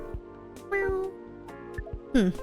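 A cat in the video game Coffee Talk 2 meows several times, short tonal calls with one longer drawn-out mew and a final rising-falling cry, clear and close over soft background music.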